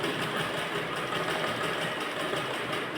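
A sewing machine runs a straight seam on a blouse with a steady, even mechanical whir up close, without a break and with no talking.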